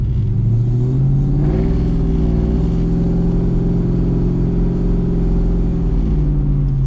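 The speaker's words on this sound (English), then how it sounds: "With a stainless steel exhaust, it doesn't sound like an LS, it sounds more like a 5 litre." A deep, burbling LS1 V8 engine in a VN Commodore with a stainless steel exhaust idles and revs with a throaty exhaust note, steady and close, with a brief rise in pitch early on.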